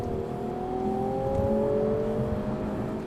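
A 2018 Infiniti Q60 Red Sport 400 AWD with 400 horsepower accelerates hard, its engine note climbing steadily in pitch through a smooth, continuous pull, close and loud.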